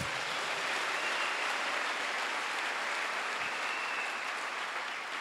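A church congregation bursts into sustained, loud applause that fills the room evenly from start to finish, with no voices rising above the clapping.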